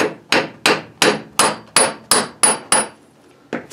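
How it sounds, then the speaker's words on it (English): Hammer blows strike car axle parts during an axle change on a 2000 two-door Chevrolet Cavalier, about nine sharp, evenly spaced metallic hits in a steady rhythm, close and loud, then a pause and one final strike. "he's getting a hammer"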